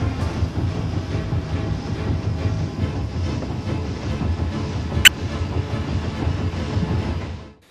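A passenger train runs along the rails in 1875 Germany, a steady rumbling roll with a sharp single click near the end, continuous and fairly close, with no voices.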